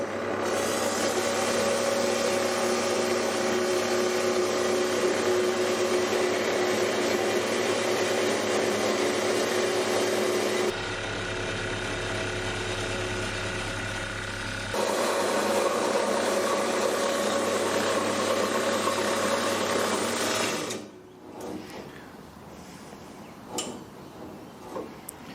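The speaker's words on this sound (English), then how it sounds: "let's start cutting out some of these bits of steel" Horizontal bandsaw cutting pieces of steel held in a vise, a steady grinding rasp over a continuous motor drone that runs for about twenty seconds with a brief lower-pitched change midway, then stops and leaves quiet shop noise.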